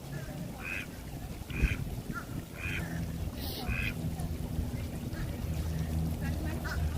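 A mallard duck quacks in a repeated series of short calls beside a city lake in downtown Orlando, Florida, moderately near, over a steady wash of outdoor background noise.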